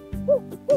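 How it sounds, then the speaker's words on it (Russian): An owl in a children's forest cartoon gives two clear, moderately loud hoots in quick succession with nothing else around it. "Сова."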